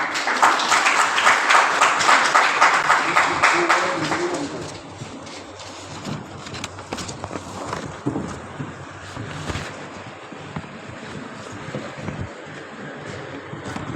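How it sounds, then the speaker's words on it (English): Applause from an audience at a faculty development session after a lecture, loud and dense for about four seconds, then falling away into scattered, uneven claps and faint room noise. "Can we please have a huge round of applause?"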